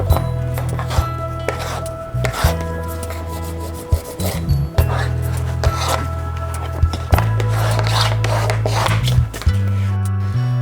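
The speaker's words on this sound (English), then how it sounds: "I'm using my fingers and the folder to get it nice and tight around the edge" Bone folder and fingers rubbing and pressing cover material tight around the edge of a book board during hand bookbinding, a close series of scraping strokes and soft taps in an irregular rhythm.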